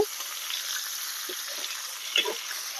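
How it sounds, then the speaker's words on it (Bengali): Pointed gourd (potol) fries in oil in a covered pan: a steady, bright sizzling hiss with a few soft pops and crackles, close and unbroken, with no voices. "এবার পটলগুলোকে ভেজে নেবো"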